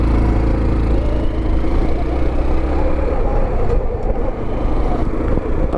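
A Honda motorcycle, a Super Cub or Trail 125, idles close by with a steady low putter that runs unbroken and fairly loud, with no talking.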